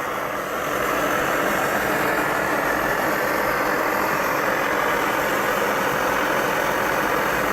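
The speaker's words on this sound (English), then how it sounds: "Give this one a few more pumps on the Coleman." An old Coleman camp stove burning after being pumped up, a loud, steady, broadband roar that holds unchanged from start to finish with no pauses.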